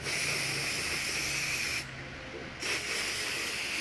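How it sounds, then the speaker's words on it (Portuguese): Hair spray hisses from an aerosol can onto styled hair, a steady broadband spray lasting nearly two seconds, pausing briefly, then resuming close to the mic with no talking. "Eu coloco o spray de cabelo."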